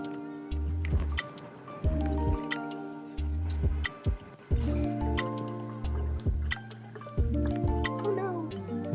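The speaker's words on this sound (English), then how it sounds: "So I'm gonna go ahead and measure out our vegetable broth." Vegetable broth poured into a measuring cup in a kitchen, giving short repeated glugging pours with rising pitch as the cup fills, close and clear with no talking.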